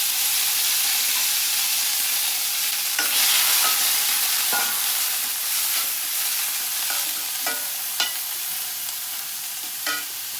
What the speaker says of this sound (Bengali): একদম হালকা তেলে ভাজলাম চিংড়ি মাছটা